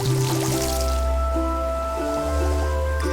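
A cleaner robot in Fresh Start Cleaning Simulator sprays water with a hissing, gurgling wash over a low mechanical hum that shifts in pitch several times, heard up close.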